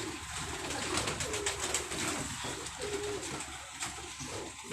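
Pigeons cooing on a rooftop, soft repeated coos over steady outdoor background noise, heard without speech.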